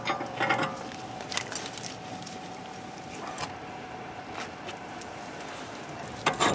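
A bearing puller on a rear wheel bearing of a BMW is cranked down using PVC plumbing pipe as a spacer, giving repeated ratcheting and creaking metal clicks over a steady workshop hum, with a louder burst near the end.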